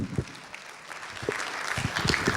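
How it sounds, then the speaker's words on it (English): An audience applauding as a guest named Navneet is invited on stage, scattered clapping that builds and grows denser toward the end, fairly close, with no one speaking. "A round of applause for Navneet."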